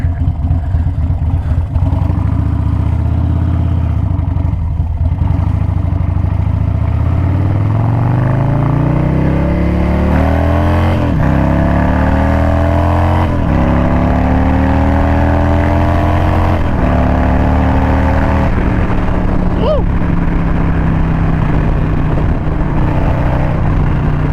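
A tuned Harley-Davidson Road King motorcycle on a test ride, its loud engine revving up through several gear changes with rising and falling pitch, steady and close throughout with constant wind rush.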